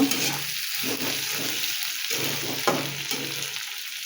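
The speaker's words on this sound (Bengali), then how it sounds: "পেঁয়াজটা একটু ভেজে নেব।" Onion frying in a little hot oil in a wok, a steady close sizzle with broad hiss, and stirring scrapes coming in short bursts through it.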